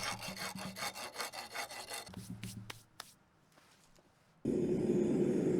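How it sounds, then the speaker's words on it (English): A rasp files out a hole in a propane forge part so a coupler will fit, with quick rhythmic rasping strokes, close and loud, then a few scattered scrapes and a brief quiet, ending in a loud steady hiss. "I then made the hole bigger with this rasp so the whole coupler would fit up inside it."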